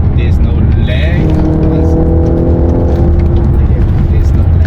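A naturally aspirated 4.2-litre V8 car engine drones loudly and close inside the cabin, its pitch rising steadily as it revs, with talk over it.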